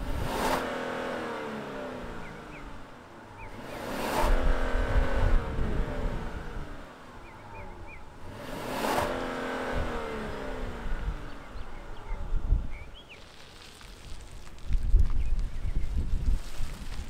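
A 2022 Genesis G80 luxury sport sedan engine fires up and revs in several rising bursts, each swelling and falling back to idle, heard close with no talking.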